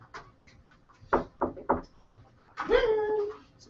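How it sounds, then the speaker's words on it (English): Three sharp, evenly spaced raps on a door, close and fairly loud, followed by a longer voiced sound, with faint background noise in a quiet indoor room. "Somebody knocking?"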